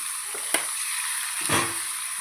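Hot oil fries in an iron pan over a medium gas flame, a constant bright sizzle broken by two short sputtering bursts, close and moderately loud.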